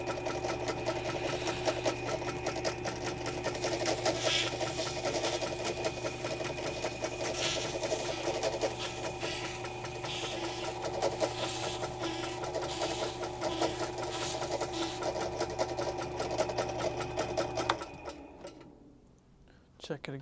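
A saw is power sanded with 400 grit paper, a steady mechanical buzz with rapid ticking that runs nearly unbroken before stopping near the end, with some talking.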